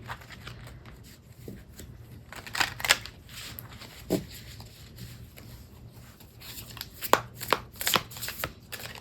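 Tarot cards being shuffled by hand, a little awkwardly, in close irregular bursts of riffling and slapping with quieter gaps between.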